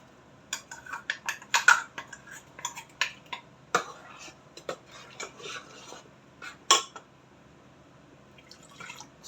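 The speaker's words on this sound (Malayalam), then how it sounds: "ഇതൊന്ന് ഉടച്ച് അരപ്പം ചേർത്ത് കൊടുക്കും" Clinking metal against a pot with soft squelching as cooked pumpkin, yam and cowpeas are mashed for erissery, a steady series of scraping, tapping strokes.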